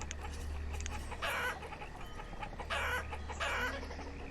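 Chickens cluck and crow in the farming village of the video game Banished, with several bright clucking bursts repeating over a steady low ambient hum.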